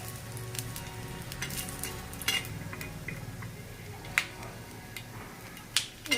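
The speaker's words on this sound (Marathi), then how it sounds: "शेंगदाण्याला पण आपल्याला मस्त असं फ्राय करून घ्यायचं चांगलं." Peanuts frying in a little oil in a pan for a village-style drumstick curry, a low steady sizzle with scattered sharp clicks and pops and occasional utensil taps, heard close with no talking.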